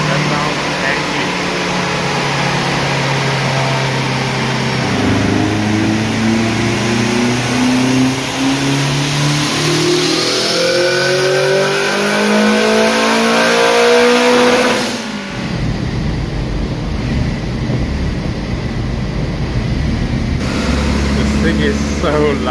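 On a dyno, a loud car engine revs hard with a rising, screaming pitch that climbs for several seconds before abruptly dropping off. Afterward, a steady, roaring hum lingers.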